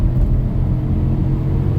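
A 2000 Audi A6 with the 4.2 engine accelerating on the road, a steady low engine rumble and drone heard from inside the cabin, loud and continuous with no talk.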